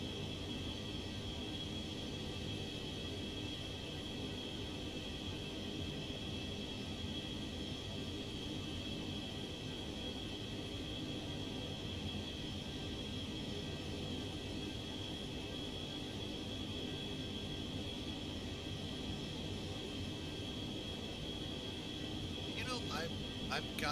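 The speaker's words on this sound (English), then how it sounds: "we have the 727 taxiing" Boeing 727 jet engines idling and whining while the airliner taxis at Chicago O'Hare in the X-Plane 11 flight simulator, a constant broadband roar with a steady high tone, continuous and unchanging.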